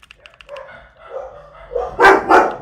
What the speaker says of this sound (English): Sorry for the dogs, y'all.